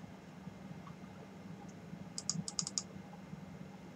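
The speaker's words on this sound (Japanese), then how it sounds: "Z 押してもしゃがまへん。 これ、キーボードが狂ってんでしょうか？" Computer keyboard keys clicked during play of the PC shooter Knives Out (荒野行動), a quick burst of five or six sharp taps in the middle, faint and close, over a steady low hum.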